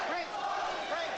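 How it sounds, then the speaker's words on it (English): Boxing arena crowd at a Mike Tyson versus Jose Ribalta heavyweight fight chanting a fighter's name, a loud, sustained roar of many voices rising and falling together. "Crowd taking up a chant of Jose."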